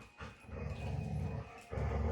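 Two dogs, a 7-year-old and a younger visiting dog, wrestle and play indoors, with low, rough growls and snarls coming continuously and close for the whole stretch and briefly dropping off before surging again near the end.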